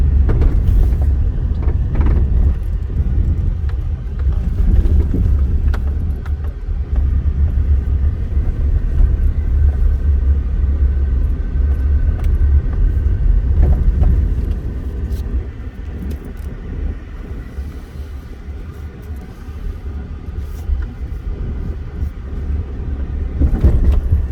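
A car cruises past a Las Vegas casino toward self-parking, its engine and tyre rumble low and continuous from inside the cabin, easing slightly partway through.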